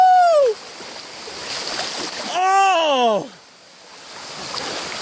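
A person plunges down a waterfall into cold spring water at Lake Jordan, making a splash and wash of water amid excited shouting voices, with steady rushing water throughout.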